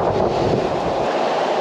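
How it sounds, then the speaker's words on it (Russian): Huge storm waves crash on the Crimean coast in a broad, continuous roar, with strong wind buffeting the microphone throughout and no voices. "Но сейчас уже реально гигантские просто волнищи."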